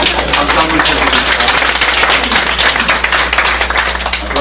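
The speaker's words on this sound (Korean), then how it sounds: "박수 한번 쳐주십시오." A church congregation claps together in a close, loud, steady patter for a few seconds, with a low constant hum running underneath.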